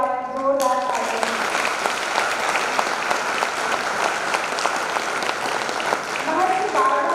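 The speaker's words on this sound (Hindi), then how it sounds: "मैं आप सभी से रिक्वेस्ट करती हूँ कि सर के लिए एक बार जोरदार तालियां" Sustained audience clapping at a seminar opening ceremony honoring an award-winning scholar, dense and steady, with a voice briefly at the start and another voice resuming as the applause continues.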